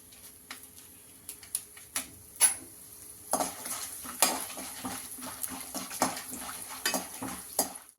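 Peanuts, urad dal, chana dal and dried red chilies dry-roast in a pan, with a soft sizzle under repeated sharp clinks and scrapes of a stirring spoon against the metal, close and steady throughout; no talking.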